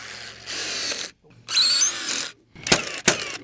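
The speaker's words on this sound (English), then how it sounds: "I'm going to add 1 screw on each of these other joists as well in the middle." A power drill drives screws into deck joists, with three whirring bursts of about a second each separated by short pauses, the last one ending in sharp clicking jolts, loud and close.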